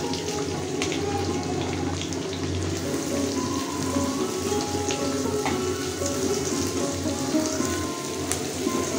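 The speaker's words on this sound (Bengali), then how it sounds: "পেঁয়াজটা আর রসুনটা হালকা একটু ভাজা হয়ে গেছে।" Chopped onion and garlic frying in oil, a dense, even sizzle and crackle that holds steady and close throughout, with faint scattered pops and no voices.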